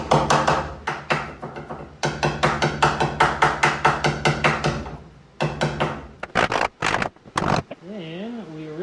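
Masking tape being torn against the edge of a hammer in a quick series of sharp ripping and tapping bursts, close and fairly loud, with a brief pause and then a few more rips near the end.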